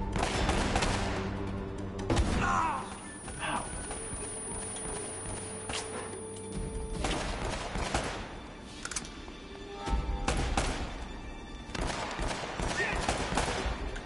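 Gunfire from a powerful enemy gun in the video game Uncharted, with heavy shots and bursts recurring through a busy combat mix, loud and close, with someone talking quietly underneath.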